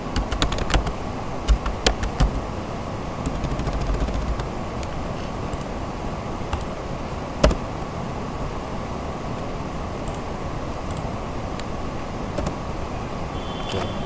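Keys on a computer keyboard tap out a password in a quick cluster of clicks near the start, then occasional isolated taps over a steady background hiss.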